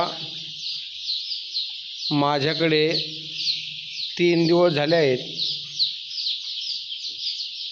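A dense, steady chorus of high-pitched chirping from about seven thousand chickens on a poultry farm fills the background, while someone speaks over it in two short bursts.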